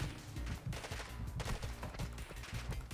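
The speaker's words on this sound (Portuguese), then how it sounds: "Vou tomar uns tiros para morrer." Rapid automatic gunfire from the video game Warzone 2.0, a dense run of repeated shots and impacts filling the whole stretch at steady, fairly quiet game-audio level, with no talk.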